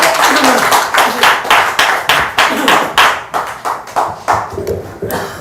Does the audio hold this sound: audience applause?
yes